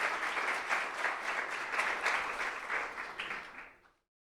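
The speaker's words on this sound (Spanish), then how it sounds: "Damos un aplauso al Señor por la familia Peralta" A church congregation applauds in praise for a family, a steady wash of many hands clapping throughout before fading out abruptly at the end.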